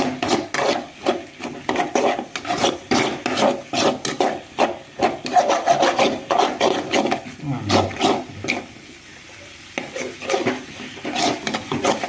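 A spatula scrapes and rubs repeatedly against a pan while egg fry is stirred, a loud rhythmic rasping that pauses briefly near the end.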